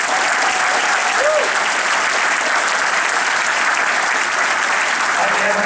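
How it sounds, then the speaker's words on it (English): Sustained applause from a crowd at Huber's for an Indiana University football player, steady and dense throughout with a faint voice briefly audible underneath. "Give Linnell a big round of applause"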